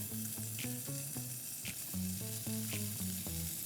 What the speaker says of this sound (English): I'm going to put it into a hot pan